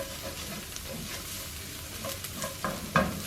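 Garlic fries in a pan over medium-low heat, giving a soft continuous sizzle with stirring scrapes and a few louder clicks of a utensil near the end, quiet and close, no talk.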